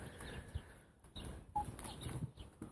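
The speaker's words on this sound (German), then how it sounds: "Also Mechelner Hähne" Mechelner chickens clucking on a farm, with several soft, irregular clucks and short calls rising over a low, rustling background, fairly close and alone without talk.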